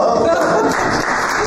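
Audience applause at a 2014 book launch event, a dense, steady wash of clapping from a seated crowd sustained throughout without a break.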